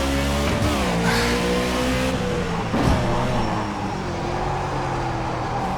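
A NASCAR stock car engine roars steadily in a racing game on the Nordschleife, loud and close, with the pitch dipping and climbing through gear changes and throttle shifts, and no talking.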